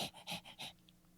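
A human voice imitates a happy dog panting, with four quick rhythmic breathy huffs up close, then a faint trailing puff.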